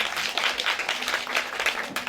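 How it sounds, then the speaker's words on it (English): A crowd at a book launch claps hands in a dense, steady burst of applause lasting a couple of seconds, fairly loud and filling the room. "So can you just clap your hands for yourself?"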